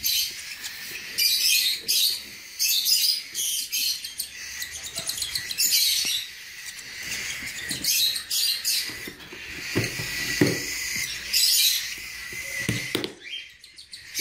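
Young cockatiel and lovebird chicks in a bird nursery give rapid, high, shrill begging calls in repeated bursts, loud and close, with brief pauses between them.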